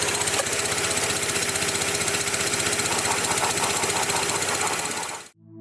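A swapped Honda K24 engine idles loudly in a Civic EF, a steady, slightly uneven mechanical drone with a fast knocking pulse, running alone until it is cut off abruptly near the end.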